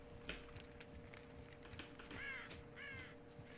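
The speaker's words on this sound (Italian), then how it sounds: "Ho sentito il corvo." Two harsh crow caws ring out over a steady low hum and scattered clicks, moderately loud and close.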